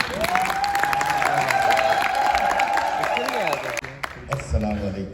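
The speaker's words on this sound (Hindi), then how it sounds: "सो भरपूर तालियों से इस्तकबाल कीजिए।" Audience claps and cheers to welcome a performer at a poetry gathering, steady applause mixed with whoops and voices, while a speaker's voice rises over it and the clapping fades near the end.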